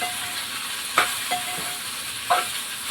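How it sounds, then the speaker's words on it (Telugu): Okra, tomatoes, salt and chili powder sizzle in a pan, a steady close hiss broken by a few scraping strokes of a spoon stirring them. "టమా టమాటాలు బెండకాయలు ఉప్పు కారం వేసుకొని కాస్త అటు ఇటు కలుపుకొని"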